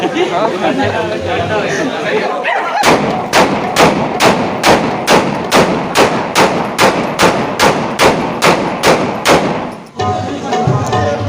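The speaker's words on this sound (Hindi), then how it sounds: "यार ये फायरिंग नहीं होना चाहिए, फायरिंग नुकसान देता है" Celebratory gunfire at a wedding: a rapid run of about twenty loud sharp shots at a steady rhythm, over a constant murmur of crowd chatter and voices.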